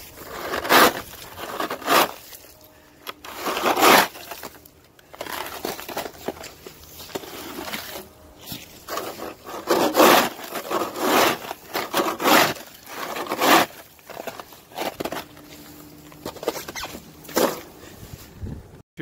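A Yardworks polycarbonate snow scoop with a nylon wear strip scrapes repeatedly through Canadian slush and ice outdoors, giving rough, loud, irregular strokes close by with brief pauses between pushes.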